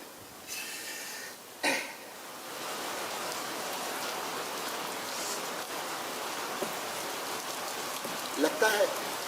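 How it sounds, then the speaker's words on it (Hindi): Heavy rain falls as a steady hiss through a stage play in Lucknow, with a cough and a few brief vocal sounds over it and a short clatter near the end. "ये बारिश जल्दी नहीं रुकने वाली।"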